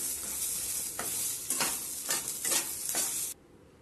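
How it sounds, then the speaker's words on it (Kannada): Curry leaves go into roasting urad dal, cumin and pepper in a pan, followed by a run of rhythmic scraping stirs, about five strokes over a light sizzle, close, ending abruptly. "ಸ್ವಲ್ಪ ಕಲರ್ ಚೇಂಜ್ ಆಗೋವರೆಗೂ ರೋಸ್ಟ್ ಮಾಡ್ಕೊಂಡಾದ್ಮೇಲೆ ಕರಿ ಲೀವ್ಸ್ ಹಾಕ್ಕೊಳ್ತಾ ಇದ್ದೀನಿ"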